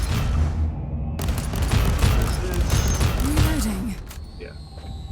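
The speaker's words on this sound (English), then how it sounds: "You can hear when it's shooting." Bursts of weapon fire in the video game Inquisitor, dense rapid shots under a voice talking, with mechanical game effects and a fading tail near the end.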